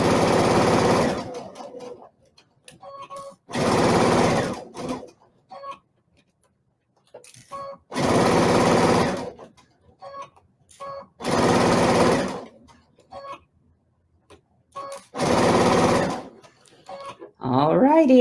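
Sewing machine stitching a quilt border, running in five short bursts of rapid stitching separated by pauses filled with soft handling sounds and a quiet voice.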